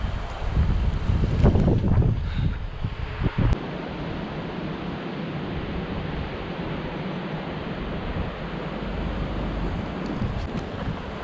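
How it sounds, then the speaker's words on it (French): Strong wind at a beach on the Atlantic coast near Biarritz roars across the microphone, with louder gusts early on and then a steady, dense rush to the end. "Même s'il y a beaucoup de vent."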